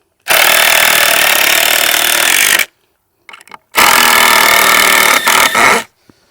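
A power drill drives into material in two loud, sustained bursts, the first about two seconds long and the second about two, separated by a brief pause with a few small clicks and taps.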